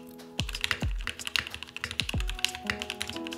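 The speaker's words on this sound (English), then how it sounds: "is the Mode Sonnet, my first custom keyboard that I can't stop drooling over" Keys are typed on a Mode Sonnet custom keyboard with Mode Reflex switches and Type 9009 keycaps. The keystrokes come as a quick close-up run of crisp clacks with a few deeper thocks, clear and unaccompanied.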